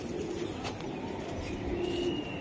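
A male racing pigeon coos softly in a low, throaty murmur, faint and somewhat distant against a steady background hum.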